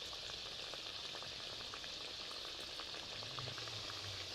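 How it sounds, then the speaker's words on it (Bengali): Flour-based sweets frying in oil in a wok, browning on a stove whose heat keeps shifting, give a steady, dense sizzle with a constant crackle throughout and no voices. "এইবারে মিষ্টিগুলো লালচে লালচে করে ভেজে নিয়েছি"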